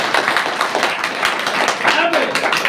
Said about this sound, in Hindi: तीनों के लिए एक बार जोरदार ताली